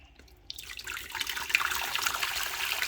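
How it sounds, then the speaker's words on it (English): Hot water from a kettle pours into a pressure pot as rice and beans are cooked, starting with a clunk and then building into a steady, bright stream that runs to the end. "put water from the kettle into the pressure pot"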